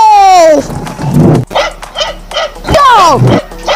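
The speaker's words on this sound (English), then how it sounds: "Dog." A dog gives a few loud, close barks and yelps in quick succession, with short pauses between them.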